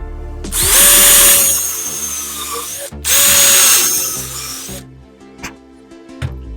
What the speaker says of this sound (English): I'll drill these out